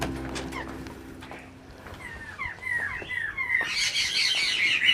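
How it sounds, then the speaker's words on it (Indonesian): Bird calls resembling a laughingthrush (poksai) come from a bird park as short whistled, rising notes that are moderately near, followed by a busier chorus of high chattering birds toward the end. "Ini kayak poksai ini, seperti burung poksai."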